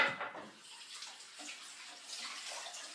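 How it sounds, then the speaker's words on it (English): Hands rinsed under a running tap, a steady close rush and splash of water with gurgling variations throughout, no voices. "always make sure to wash your hand"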